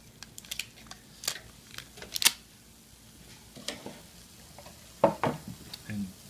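Butter stirred around a skillet with diced potatoes, with soft scraping and occasional sharp clinks of utensil on pan over a quiet, faint sizzle.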